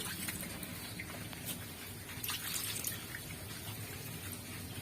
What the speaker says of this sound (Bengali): চাউমিনটা আমি ঠান্ডা জল দিয়ে ধুয়ে নেব।